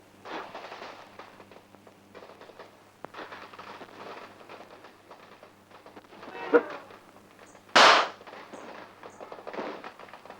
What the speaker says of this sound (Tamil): வெடிச்சது வேற பட்டாசு